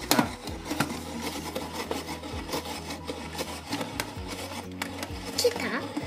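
A Shirokuma-kun hand-crank shaved ice maker grinding a block of ice, a steady rasping scrape with a low rumbling crank rhythm running throughout while people talk over it.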